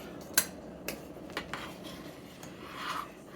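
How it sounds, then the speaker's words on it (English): A spoon stirs homemade beef soup in a pot, with a few sharp metallic clinks and softer scrapes against the pot spread over a few seconds, close and quiet with no talking. "Just want to stir it every now and then"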